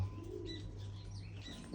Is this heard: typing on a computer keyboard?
no